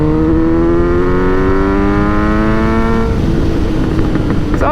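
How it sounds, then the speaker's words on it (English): A 948 cc Kawasaki Z900RS motorcycle with a modified aftermarket exhaust revs up loudly nearby, the engine note climbing steadily before dropping off into a rough, crackling burble. "Lots of pops and crackles from this system, which is great too."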